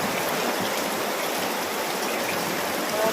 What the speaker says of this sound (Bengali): কি জোরে বৃষ্টি এসেছে। আমাদের রান্নাঘর একদম জলে জলাকার হয়ে গেছে, শুধু জল, সারা জায়গায় জল পড়ছে।